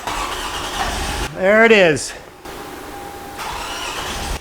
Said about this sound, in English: All right, let's key start the car.